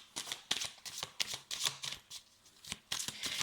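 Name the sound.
shuffling tarot cards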